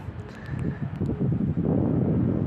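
Light wind blows across an open field in Thailand where Chula kites are flown, a low rumbling buffet of wind against the microphone that swells slightly toward the end, with no talking.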